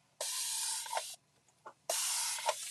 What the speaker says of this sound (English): now I'm going to use spray some water